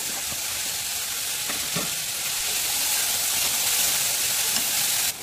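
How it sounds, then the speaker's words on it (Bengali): Chopped tomato and cut vegetables fry in a pan with a constant close sizzle, while occasional spoon scrapes and stirring knocks break through the hiss. "এরপর এর মধ্যে দিয়ে দেবো টমেটো কুচি সাথে এই যে সবজিগুলো কেটে রেখেছি এগুলো দিয়ে"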